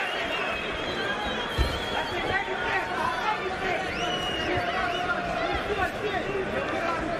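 A boxing arena crowd roars and chatters steadily for Evander Holyfield at his fight against Nikolai Valuev, a dense, continuous wall of cheering that holds at an even level throughout.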